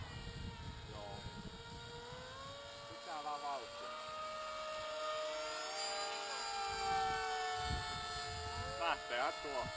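A homemade Funjet clone RC plane with a 6x4 propeller flies overhead, its steady motor whine rising and falling in pitch as it banks, moderately distant, with people talking intermittently.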